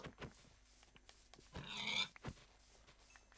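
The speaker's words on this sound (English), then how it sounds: "Why did I just hear a pig die behind me?" A pig dies in Minecraft: a short squealing grunt around the middle of a quiet stretch, faint and set against scattered low game noises, with no talk.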